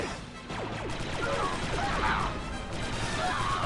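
Blaster gunfire and impacts during a Star Wars Republic Commando battle against a super battle droid carrier, rapid crackling shots and crashes with steady loud combat noise, while someone speaks over it.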